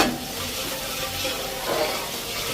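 Continuous sizzling and scraping of frozen mixed vegetables being stir-fried in a large hot pot in a canteen kitchen, steady and fairly close.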